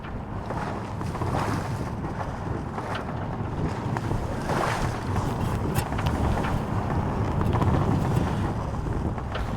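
Steady wind roars across the microphone aboard a sailboat under full mainsail, with continuous broadband rushing, faint water wash beneath and no speech.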